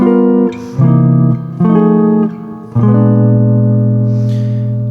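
Four sustained jazz chords played one after another on a keyboard, harmonizing a melody, loud and close, the last ringing out and slowly fading.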